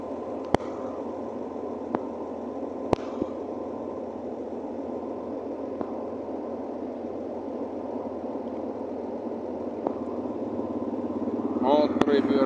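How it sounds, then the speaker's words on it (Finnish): A motorcycle passes on a road near a bridge, its steady engine drone rising toward the end, with a few sharp knocks along the way and no one talking. "Moottoripyörä ajaa tuosta ohi."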